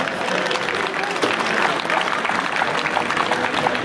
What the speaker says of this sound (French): On applaudit ce conducteur qui nous rejoint.